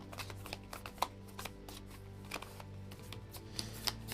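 Cards for the Sleeping Gods board game are shuffled close by in quick repeated riffles and snaps, with a soft, steady background hum and no talking.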